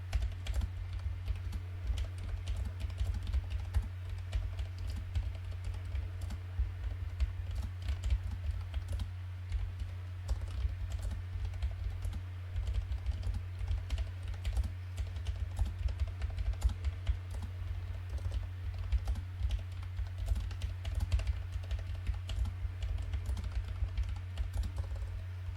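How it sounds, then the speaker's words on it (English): Steady, rapid typing on a computer keyboard through a Samson Q2U dynamic microphone with no filters, close and fairly quiet, continuous clicking keys with no voices. "I'm going to do a typing test without the filters."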